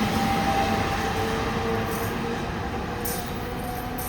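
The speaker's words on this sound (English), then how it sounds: "you got that train breezing through here" An NJ Transit train rolls past at a distance, a steady, fairly faint rumble of wheels on rail with light metallic squeal and clatter throughout.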